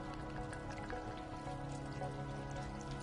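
Water trickles and drips in a game environment in Stray, a steady close stream of small splashes over a constant low hum.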